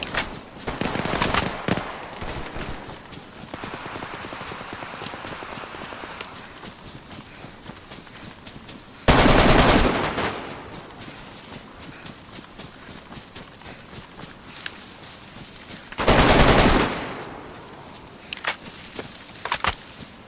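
Three loud gun blasts from a weapon in the survival video game DayZ punctuate a stretch of rapid footsteps and movement noise, each shot spaced several seconds apart.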